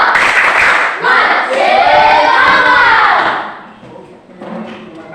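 A classroom of fifth-grade children does the tepuk semangat clapping chant, with loud, dense hand claps and shouting voices filling the room before fading slightly near the end.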